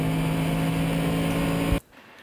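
A Mercedes SLS AMG GT3 race car pulls hard through its gears on the Nordschleife, its engine a loud sustained high-revving drone heard from onboard, cutting off sharply near the end into quieter background.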